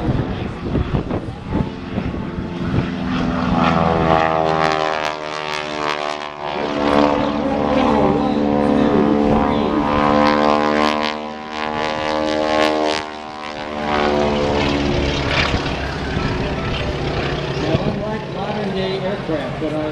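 Propeller airplane flying aerobatic maneuvers at an air show, its engine drone rising and falling in pitch as it climbs and dives, loud and continuous with wind noise while a commentator talks over it.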